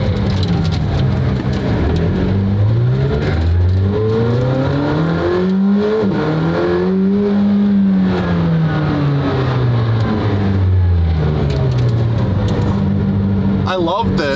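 McLaren Senna carbon-fiber supercar engine revving loudly overhead, its pitch rising and falling in repeated sweeping waves, with crowd voices and talk beneath.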